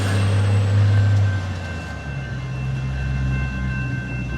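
SMART Train diesel multiple unit cars 106 and 105 rolling northbound toward Santa Rosa, a loud steady low rumble with droning engine tones that eases slightly as the train moves on, no voices.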